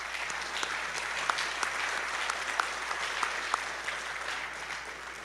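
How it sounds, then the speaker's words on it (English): An audience applauds steadily at a small business workshop on manufacturing in Montana, a dense, even wash of clapping with a few sharper individual claps standing out, and no talk over it. "He's a guy who's deserving of your applause."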